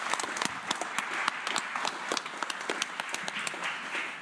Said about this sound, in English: So a quick round of applause for you guys for being here.